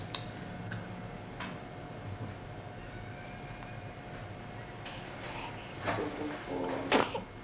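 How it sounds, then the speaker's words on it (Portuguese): A single sharp sneeze bursts out near the end, close and fairly loud, over a steady background hum with faint ticking. "Primeiro espirro."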